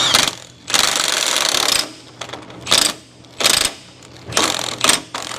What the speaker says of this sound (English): Okay, so now let's go ahead and run down the axle nut here.